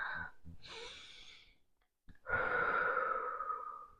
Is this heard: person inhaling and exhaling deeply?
yes